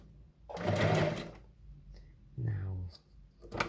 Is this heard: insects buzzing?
no